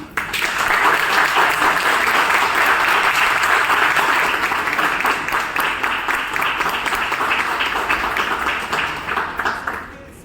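A roomful of people at a club gathering breaks into steady applause for a group of sisters, a dense wash of clapping that holds evenly for about ten seconds before tapering off.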